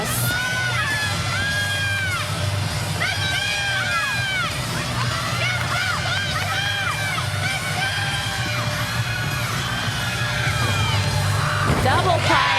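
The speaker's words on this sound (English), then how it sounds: "You can see her teammates over there screaming, cheering her on." Gymnastics teammates at a college meet screaming, yelling and whooping in repeated bursts over a constant crowd murmur, with cheering rising and falling across the clip and a louder outburst near the end.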